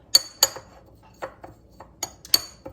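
A utensil stirs cumin, sesame seeds and chili powder in a bowl, making a handful of bright, scattered clinks and taps against the dish, close and sharp with quiet gaps between them.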